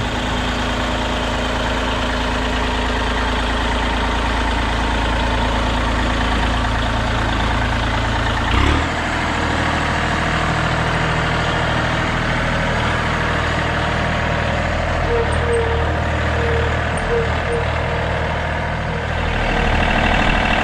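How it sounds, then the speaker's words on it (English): A heavy engine idles steadily with a deep, low rumble throughout, with a brief knock partway through and no voices. "There's Hughesy driving a tractor."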